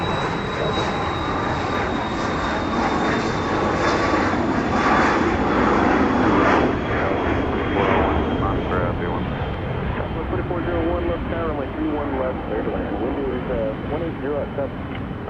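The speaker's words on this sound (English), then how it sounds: "that was flight 986 from Albuquerque, a 737-700 coming in over on the west side" A Boeing 737-700, flight 986 from Albuquerque, lands on the west side at Dallas Love Field in gusty wind, its engines a steady, broad roar for the whole stretch while a person talks over it.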